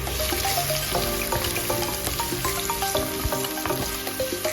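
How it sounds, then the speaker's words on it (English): Garlic and chili frying in a pan while being stirred, a steady loud sizzle with scraping stir sounds throughout. "In goes the garlic and the chili, and I'm going to give it a little stir"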